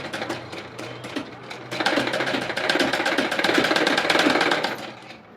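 A sewing machine stitches piping onto a blouse neck, starting with a brief slow run and then going into a steady fast rattle of needle strokes, loud and close, with no voices.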